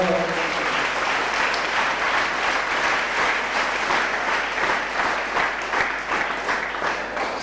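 An audience applauds steadily to welcome guests at a Gujarati gathering, a dense, even wash of clapping that lasts the whole stretch with no gaps.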